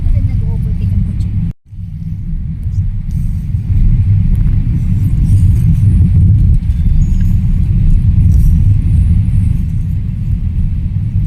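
A car overtaking on a rural road in Siruma, Partido, Bicol, Philippines, heard as a loud, close rumbling engine roar that swells and holds steady after a brief dip, mixed with wind noise.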